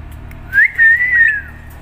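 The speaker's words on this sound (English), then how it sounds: "Whistle." A pet parrot whistles one clear rising note, then a longer sustained wavering whistle, close and loud over a faint steady hum indoors.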